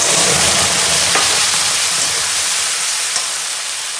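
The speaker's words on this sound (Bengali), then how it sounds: "আমি কাঁচা লঙ্কা আদা আর টমেটো পেস্ট দিয়ে দিলাম" Green chili, ginger and tomato paste frying with cumin in a pan for a vegetarian potato dum, a loud steady sizzle and hiss throughout with a faint stir scrape now and then.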